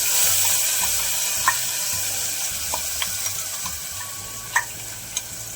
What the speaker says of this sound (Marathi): हे आता हिरवं वाटण केलेलं हे टाकून घ्यायचं